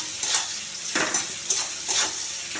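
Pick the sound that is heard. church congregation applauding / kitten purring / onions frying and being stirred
onions frying and being stirred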